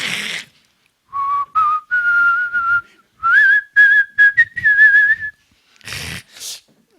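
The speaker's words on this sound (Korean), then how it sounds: "주일날 아침에 설교하면 휘파람 부는 목사도 다 있네" A pastor whistles a hymn tune alone during a Sunday sermon, giving clear, loud sustained notes in short phrases separated by pauses, with brief spoken sounds at the start and end.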